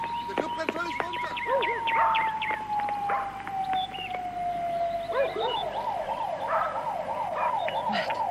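Fire engine and ambulance sirens at a burning club wail, sweeping up and down, then switch to a fast yelping pattern, with voices and a dog-like howl mixed in.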